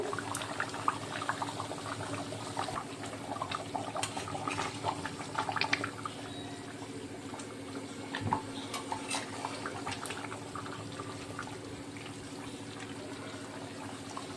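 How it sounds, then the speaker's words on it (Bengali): Bengali village-style chicken curry made with ground spices simmers in a pot, giving a faint, steady bubbling with small scattered pops and occasional soft clinks, close by and quiet. "ব্যাস কিছু সময় আমি আবারও ফুটিয়ে নেব।"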